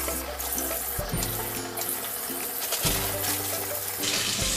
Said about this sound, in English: so right now I'm just rinsing it off.